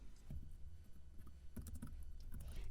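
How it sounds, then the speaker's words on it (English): Quiet clicking of a computer keyboard while code is typed, a few soft bursts of keystrokes separated by short gaps, close and faint with no talk. "I'm just going to keep on typing it this way"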